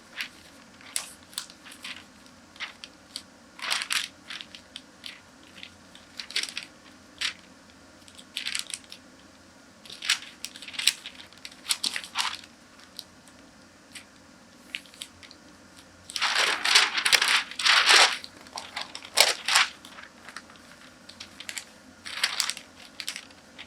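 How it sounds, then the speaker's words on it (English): Paper pattern folded and creased along a dart leg at the apex during fashion pattern making, crisp crinkles and rustles in repeated bursts with a longer crunching stretch, close and alone. "By folding on my apex, folding on my dart leg."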